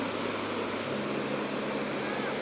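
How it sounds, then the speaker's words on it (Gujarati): Banas river near Dantiwada dam, with water rushing in a steady broadband roar that continues without a break and no voices. "સામેની બાજુ પાણી બહુ વાગે છે ત્યાં ખાડો છે મોટો"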